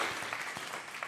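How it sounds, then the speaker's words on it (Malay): Audience applause during a Malay-language podcast recording, a brief steady wash of clapping lasting about a second. "So kita berikan tepukan lah."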